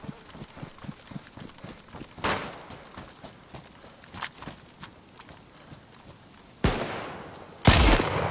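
Assault rifle gunfire in DayZ, a run of sharp rhythmic shots followed by two loud close blasts near the end, with scattered background noise.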